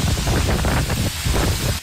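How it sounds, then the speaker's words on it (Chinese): Strong typhoon wind driving heavy rain during Typhoon Krathon on Kaohsiung's Cijin waterfront. A loud, continuous roaring rush buffets the microphone throughout, with no voices. "大风吹着雨"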